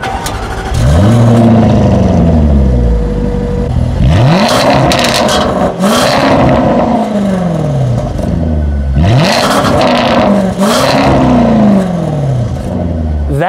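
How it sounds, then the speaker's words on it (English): A Jaguar XE SV Project 8 sports sedan's exhaust revs repeatedly, rising and falling in loud surges with crackles between pulls, close and unaccompanied by talk. "That exhaust note is very much something you would not expect to find on a little luxury sedan"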